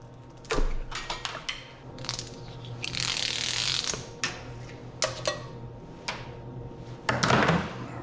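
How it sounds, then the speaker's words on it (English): Hand-trimming a wrinkled end of copper wire while stripping it for bare bright scrap: sharp metallic snips, clicks and ratcheting creaks arrive in irregular bursts, with a longer scraping rasp in the middle. "And I gotta trim this right here because that's where it stopped trimming in the machine because it was wrinkled."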